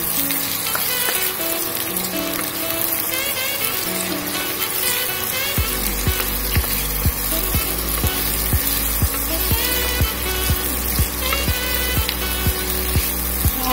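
Onions fry to golden brown in a pan, a steady close sizzle running throughout, with a regular series of soft thuds joining in the second half.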